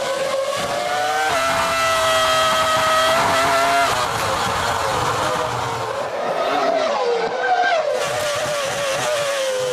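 Ferrari Formula One race car engine from the 2004 season, a loud high-pitched screaming wail that rises and shifts in pitch as it passes, mixed with track noise and no talking.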